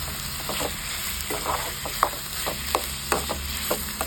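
Tomato and onion sauté in a pan with salt for a Tamil mushroom broccoli butter masala, giving a steady close sizzle broken by occasional stirring scrapes and clicks.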